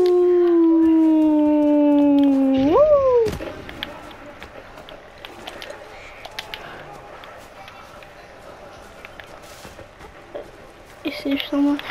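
A dog companion in the video game Far Cry Primal lets out a long, loud rising howl that bends upward and breaks off, followed by busy in-game action noise.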